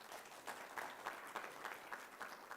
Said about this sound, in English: Let's give him a better hand of applause.